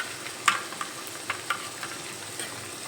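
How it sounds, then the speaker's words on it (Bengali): Garlic, ginger and cumin paste frying with onions in a pan, a low sizzle broken by several sharp clicks and scrapes of a spoon stirring, no speech. "বাটা মশলা দিয়ে একটু নেড়ে চেড়ে নিলাম"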